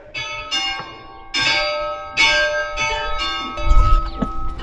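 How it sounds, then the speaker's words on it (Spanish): Church bells rung by hand ring out in a series of loud, resonant strikes, each one ringing on and overlapping the next, close by, in Gualliguaica, Vicuña, Chile. "nos sentimos privilegiados por que nos permitan tocar las campanas"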